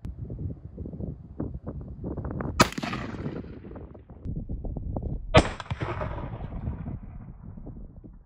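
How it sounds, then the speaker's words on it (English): A Remington 700 rifle in .300 Remington Ultra Magnum fires two loud, sharp shots a few seconds apart outdoors, each with a rolling echo, amid wind noise and some rustling handling sounds. "We're shooting it out of this Remington 700 300 Ultra Mag."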